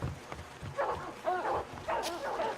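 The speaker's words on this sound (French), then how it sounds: "Oh putain, des chiens!" Dogs barking in the medieval action game The First Templar, a few excited barks and yelps in a noisy game scene, moderately loud and mixed with background effects.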